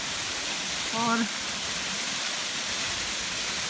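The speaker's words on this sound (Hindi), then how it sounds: "तो ये है वो वाटरफॉल, जगह का नाम है लोहाड़ी।" Waterfall at Lohari in Barot Valley, a steady, close rushing wash of falling water filling the scene, with a brief word spoken over it.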